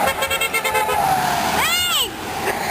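A car horn honks on the street, a few toots from a passing vehicle amid traffic noise, with people talking nearby.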